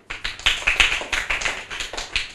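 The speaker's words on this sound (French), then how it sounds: "on applaudit Artie." A short burst of applause from a small group, quick hand claps rising and falling unevenly, close by with no voices.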